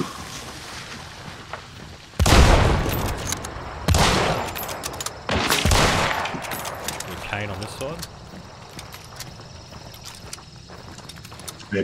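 Gunshots in a video game: a few loud, close shots with rattling echoes early on, then smaller scattered pops, with players talking throughout.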